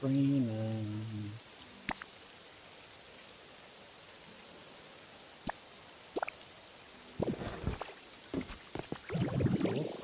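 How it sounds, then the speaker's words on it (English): Rain in the video game Pokopia, a steady soft hiss of falling drops filling the whole scene, with brief game tones and clicks scattered over it and a few louder bursts near the end. "Uh-oh, it's raining."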